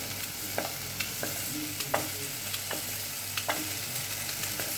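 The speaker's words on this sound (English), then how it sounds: "Then keep stirring the veggies so that they don't burn." Vegetables for butternut soup sizzle gently in a pan as a utensil stirs them, giving soft scraping strokes at irregular intervals over a steady frying hiss.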